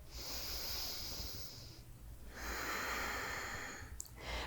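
Slow, deep breaths during a yoga pose: a long airy inhale, a brief pause, then another long breath, close and soft with no talk.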